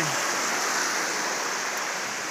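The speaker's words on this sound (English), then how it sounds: "There's the creek that way." A creek along the Rapidan Camp Trail in Shenandoah National Park rushes in a steady, close, full-bodied wash of flowing water, with no break and no voices.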